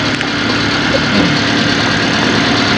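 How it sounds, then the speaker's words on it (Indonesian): A steady, low engine hum from a first-generation Toyota Calya 1200 cc idles evenly throughout, close by, with no talk and only a faint mechanical rattle on top. "Suara dari mobil ini, suara mesin standarnya Calya Beatus Sigra yang 1200 sama."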